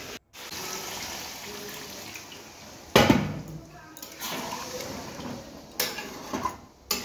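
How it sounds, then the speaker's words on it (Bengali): Water is poured into a pot of chicken curry on the stove, producing sudden loud hissing, splashing bursts that rise over a quieter cooking background and then fade. "এবার জল দিয়ে দেবো।"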